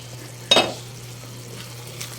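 Sautéed fermented rice with fish (burong isda) stirred in a pan: one sharp spatula scrape near the start, then a quiet low sizzle over a steady low hum, with a faint second scrape near the end.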